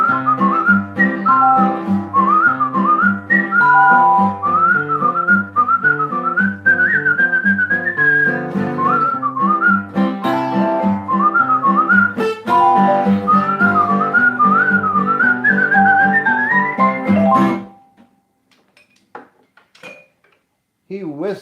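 A man whistles a lively melodic tune, loud and close, with a steady run of notes for about seventeen seconds before it stops, followed by faint clinks and near silence.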